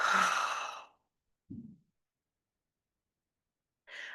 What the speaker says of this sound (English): Take a nice deep breath in and let it out.